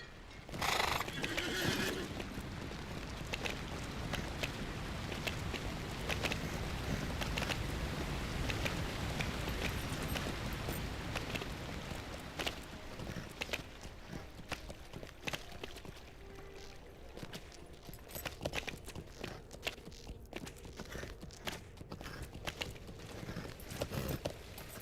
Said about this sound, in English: So we're going to ride our horse.